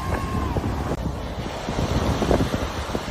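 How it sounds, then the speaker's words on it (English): Waves roll onto a Lake Michigan beach at Nordhouse Dunes in Manistee National Forest on a hot summer day, a steady broadband wash of surf mixed with wind buffeting the microphone, with no voices. "Waves are rolling in."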